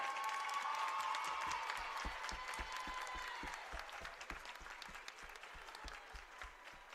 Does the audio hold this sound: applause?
yes